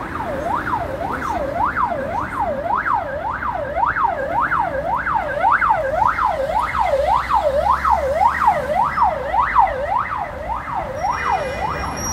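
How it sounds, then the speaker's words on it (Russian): An ambulance siren wails in a steady, rapid rising-and-falling cycle as it forces its way through jammed traffic along the oncoming lane on a city street in Almaty. It stays loud and close throughout, with road noise underneath. "По встречке скорая прорвалась."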